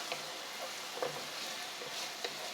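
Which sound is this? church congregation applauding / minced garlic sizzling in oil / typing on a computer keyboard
minced garlic sizzling in oil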